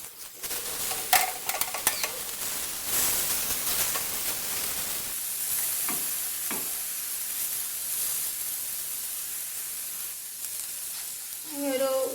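Egg and banana pieces sizzle steadily in a pan, a continuous frying hiss with scattered scraping and tapping as the mixture is stirred and turned, close and fairly loud throughout.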